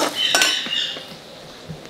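Spices for kadhi batter being mixed in a bowl, a utensil clinking and scraping against the sides in a short, close, busy flurry that fades toward the end.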